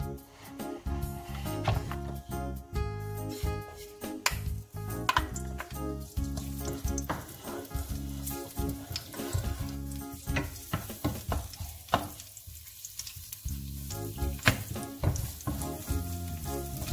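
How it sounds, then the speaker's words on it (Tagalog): Garlic sautés in hot oil in a pan for pancit canton, a steady close sizzle broken by frequent scraping and stirring clatter from a utensil, with no talk over it. "So lalagyan ko na siya ngayon ng mantika dahil igigisa na natin yung bawang."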